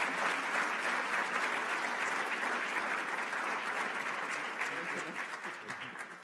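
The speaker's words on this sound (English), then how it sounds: "So we can clap hands for him." An indoor conference audience claps steadily for an introduced speaker, dense applause filling the room throughout and gradually thinning toward the end.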